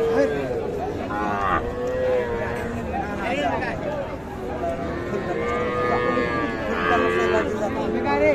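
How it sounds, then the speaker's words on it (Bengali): A crossbred bull calf moos several times with drawn-out, wavering calls close by at a busy village cattle market, heard over a constant murmur of people talking and bargaining. "এই যে এটা ক্রস জাতের ষাঁড় বাচ্চা।"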